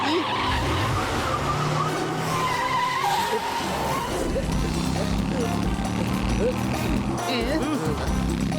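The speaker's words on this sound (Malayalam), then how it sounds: "അയ്യോ, ദേ വണ്ടി." Cartoon vehicle skidding, a long scraping tire squeal mixed with engine noise and lively background, voices speaking over it.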